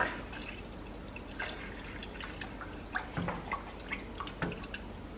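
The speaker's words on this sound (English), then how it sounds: "Half and half, which I just splashed on everything." Half and half milk splashing and pouring into a pot on a stove for hot chocolate, heard as scattered drips and small splashes over a few seconds, close and fairly quiet.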